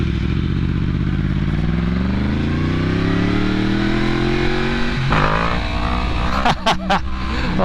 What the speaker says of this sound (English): you cannot get over that crossplane engine, the exhaust note